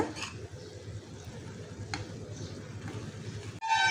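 Masala paste being stirred into cooked spinach stir-fry in a pan, giving a steady soft scraping and faint sizzle throughout, with a brief sharper clatter near the end.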